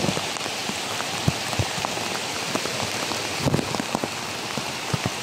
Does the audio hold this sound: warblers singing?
no